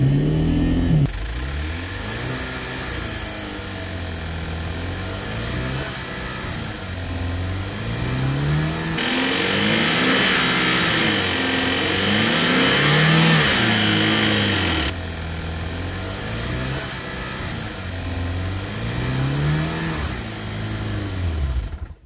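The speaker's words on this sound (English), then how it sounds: "Full throttle." A car engine with freshly changed spark plugs revs hard at full throttle, its loud rising and falling pitch surging in waves, close and continuous for over twenty seconds with no talk.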